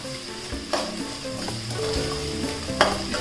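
Vegetables with curry leaves and coriander frying in a pan for upma, a steady close sizzle with spatula stirs and scrapes throughout and a couple of sharper clinks, no voices.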